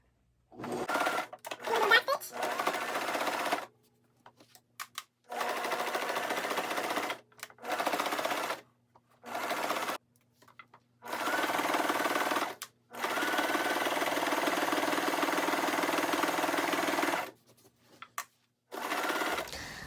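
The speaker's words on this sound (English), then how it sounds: "I'm gonna just go ahead and do a straight stretch stitch though" A sewing machine runs a straight stretch stitch through fabric from an upcycled hoodie, with the fabric guided rather than pulled. It comes in several steady whirring bursts of a few seconds each, separated by short pauses.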